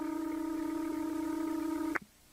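Telephone ring tone sounding as one sustained electronic burst that stops abruptly, followed by near silence, with no speech.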